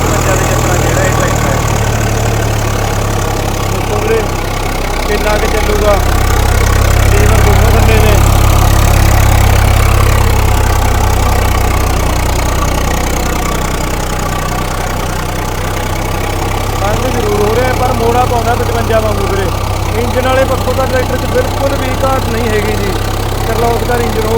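A New Holland tractor engine labors in first gear with the lift lowered, a steady loud mid-to-low drone that swells heavier midway, running continuously with no talk over it.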